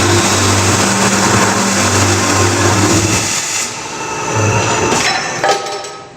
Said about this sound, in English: It'll advance my 6 inch part and make the cut.